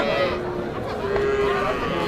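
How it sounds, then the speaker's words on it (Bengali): Dairy cows, local breeds and Australian Friesians, low at a busy rural cattle market; drawn-out moos rise over a steady crowd murmur with nearby voices. "এখানে যা আছে সব দুধের গাভী।"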